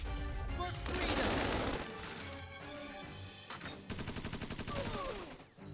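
Gunfire in the strategy game Tiny Metal, a dense stretch of rapid machine-gun shots and impacts layered over game music, easing briefly and then resuming in a quick rattling volley before fading out.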